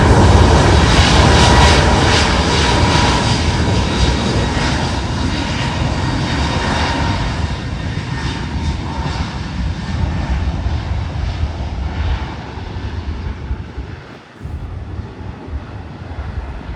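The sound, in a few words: Pratt & Whitney jet engines roaring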